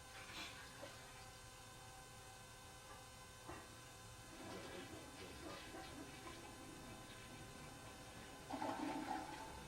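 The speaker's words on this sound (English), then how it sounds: "we just flushed once, and we'll give it another flush" A toilet flush carried through a sewer line over 100 feet away, picked up by a camera head in the pipe, faint and hollow: distant trickling and gurgling water building to a louder rush near the end.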